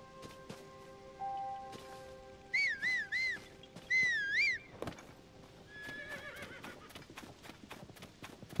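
A horse whinnies twice in Zelda: Tears of the Kingdom, with loud, wavering calls in the middle of the stretch. Scattered hoofbeats and soft clicks come before and after, with a faint patter-like background.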